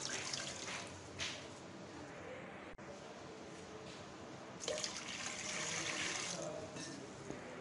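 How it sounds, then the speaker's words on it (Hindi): Two glasses of water poured into a wok in a home kitchen while making fresh plum juice, a soft trickling, splashing pour lasting several seconds at close range, fairly faint. "अभी हमने इसके अंदर पानी ऐड करना है"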